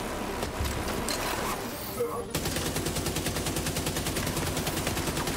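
An enemy's minigun fires in The Division 2 during co-op play: bursts of gunfire and explosions, then a steady, rapid, close rattling stream of shots, with players talking over it.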